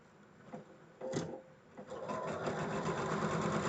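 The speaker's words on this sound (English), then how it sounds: "Now I will stitch down the correct side of the line." A sewing machine stitches a quilt block along a marked line, starting with short hesitant bursts and then running into a steady continuous close-up hum of rapid stitching.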